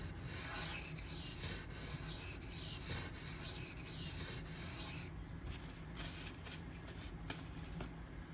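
A Spyderco Manix 2 knife blade rubbed along a Pride Abrasive sharpening stone at an angle near the choil, giving steady close scraping strokes that run continuously, then grow lighter and more broken toward the end, with no talking.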